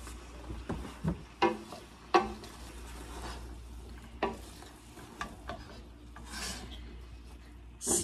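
Italian sausage dressing being stirred with a spoon, soft scraping and rubbing strokes with a few sharper knocks against the dish, quiet and close, with no talk.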